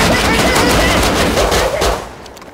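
Rapid automatic gunfire from the game Rust rattles out loud and close in one continuous burst of about two seconds, then cuts off and trails away.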